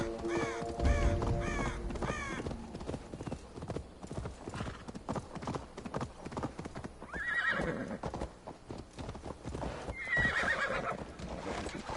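Horse hooves clip-clop steadily in a video game, joined by a couple of distinct neighs and whinnies, with crow-like caws in the background.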